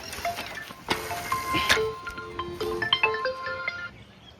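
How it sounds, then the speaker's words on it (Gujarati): A melodic electronic phone ringtone plays a sequence of bright tones, with faint voices and background noise underneath. "અત્યારે શેનો ફોન આવ્યો"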